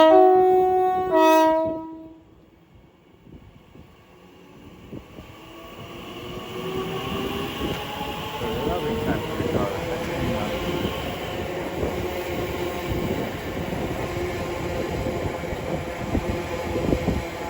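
An Elizabeth line train passes through Shenfield station on the Great Eastern Main Line, a steady loud rumble of wheels and carriages building and continuing, with a tonal horn or announcement-like chime at the start before the roar.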